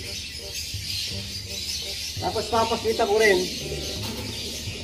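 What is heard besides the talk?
pigeons calling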